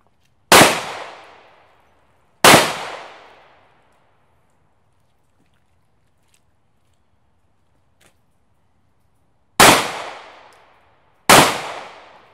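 Four loud, isolated gunshots are fired at ballistic body armor panels. Each sharp crack has a ringing decay, with two shots close together, a long quiet gap, then two more.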